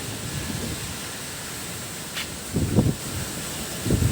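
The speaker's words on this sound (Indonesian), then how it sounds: "kondisinya di sini agak berangin ya, jadinya kalau berisik ya mohon maaf, wajar aja karena berangin" Low rumbling wind buffeting a realme 8 phone microphone, with a few louder gusts of muffled thumping against a soft hiss.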